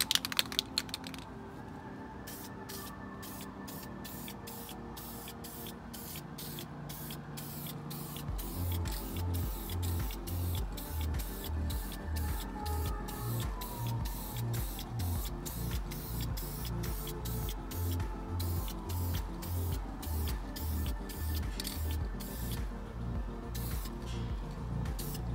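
Vinyl spray paint goes onto a car dashboard for a second coat, heard as quiet, repeated short hissing bursts with a faint rhythmic mechanical ticking and no talking.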